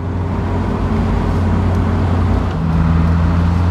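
Honda S2000 roadster's VTEC engine running with the airbox lid removed: a loud, steady engine drone with sustained humming tones that hold without letup, with a slight shift partway through. No speech.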